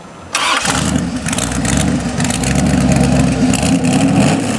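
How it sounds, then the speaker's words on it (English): A Boss Hoss V8 motorcycle engine cranks and fires after a short whir, then settles into a loud, rumbling, lumpy idle. "Fire it up, Dave, and let people hear what a Boss Hoss sounds like."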